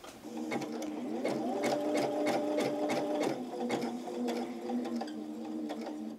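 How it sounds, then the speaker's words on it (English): A foot-pedal-driven sewing machine stitching on a button runs steadily with a rapid, even mechanical whirr and ticking needle strokes, close and alone, slowing slightly toward the end. "So I'm just going to use my foot pedal to sew the button on."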